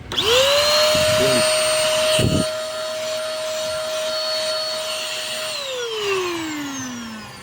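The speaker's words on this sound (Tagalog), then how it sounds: "Hindi pala ito vacuum. Blower." The blower of a vacuum cleaner with a power fault whines up to a steady high-pitched drone, runs evenly for several seconds, then winds down with a falling pitch; a brief voice near the start.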